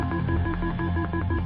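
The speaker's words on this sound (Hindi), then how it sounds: "रोहित ने नंबर मिलाया" A telephone number is punched in on a landline keypad in a horror story, a quick, even run of about seven close, loud dialing beeps with nothing else heard.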